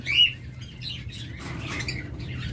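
Green opaline pet birds for sale give repeated close, high chirps and tweets, a sharp call at the start, then a busy overlapping chatter that continues to the end.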